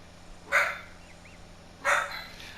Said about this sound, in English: I'm concentrating on these dogs barking.